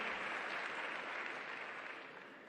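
A crowd at a Beşiktaş club general assembly applauds, a short dense wash of many hands heard from a distance, steady and faint, gradually thinning.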